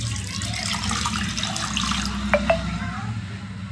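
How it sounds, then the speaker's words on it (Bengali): Water pouring and splashing into a pan of spice-coated fish while cooking, a soft steady trickle over kitchen background noise with a couple of brief sharp clinks. "এবারে এতে আমি জল দিয়ে দেব।"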